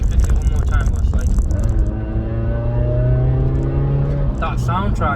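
A 2014 Suzuki Swift Sport fitted with a Remus exhaust revs loudly and steadily, its engine note climbing and holding, with someone talking over it near the start and end.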